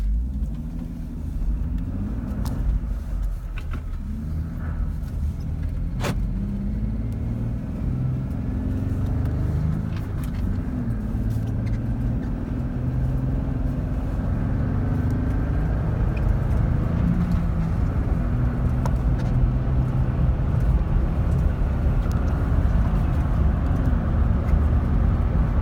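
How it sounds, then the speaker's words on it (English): Car with 4.10 gears accelerating toward 70 mph, a low engine rumble and road noise heard from inside the cabin, rising steadily through the gears with no talk. "Okay, now we're in 6th gear. I'll bring it up to 70 miles an hour."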